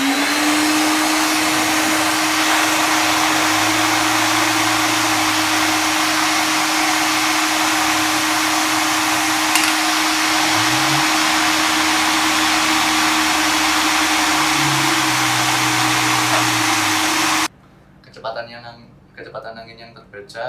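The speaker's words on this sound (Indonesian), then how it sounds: "kita menggunakan vacuum cleaner" A vacuum cleaner blows air at an anemometer sensor, a loud, steady motor whine and airflow roar with slight pitch shifts, running for about seventeen seconds before cutting off, then a voice speaks.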